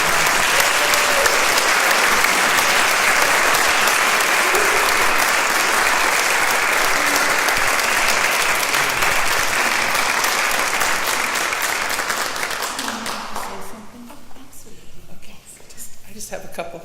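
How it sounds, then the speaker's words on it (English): Sustained audience applause at a city award ceremony during a State of the City event, a loud, full room clapping for a long stretch before thinning out and fading near the end. "Please join me in giving her a round of applause."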